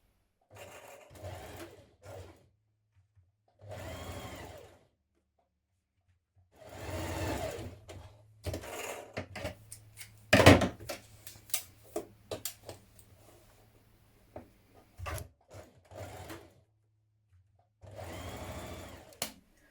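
A sewing machine runs in short bursts, stitching the shoulder and side seams of a vintage-style dress, with a whirring motor and rapid needle clatter. Brief quiet pauses and a few clicks fall between the runs.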